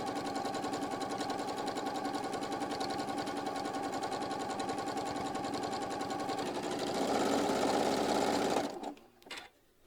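A sewing machine runs steadily at a fast, even rhythm while top stitching 1/8 inch along the edge of a piece, growing a bit louder near the end before stopping abruptly with a few faint clicks.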